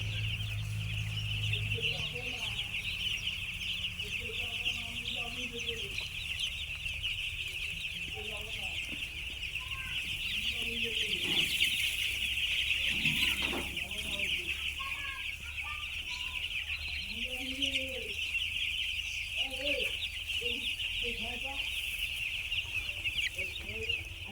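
Broiler chickens in a heated winter brooder cluck and peep in short scattered calls over a steady electrical hum, with someone speaking at times among them.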